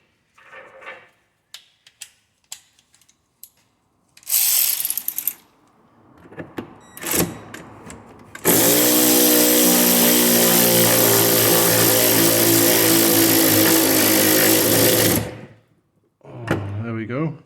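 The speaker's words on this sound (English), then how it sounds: "see if the electric ratchet can sort this out" An electric ratchet undoes a fuel tank strap bolt on a Saab 9-3, first in short bursts, then in one loud, sustained whirring run of about seven seconds, with clunks and handling noises before and after.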